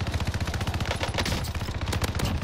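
Rapid automatic gunfire during a Call of Duty Warzone Rebirth Resurgence quads match, a dense, loud, continuous burst of shots running the whole time with no talking.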